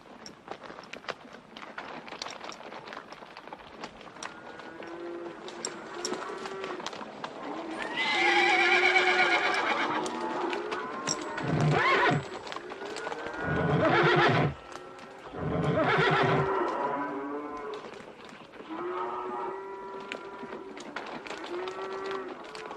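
Horses whinny loudly several times over a steady clip-clop of hooves, with a faint voice in the background.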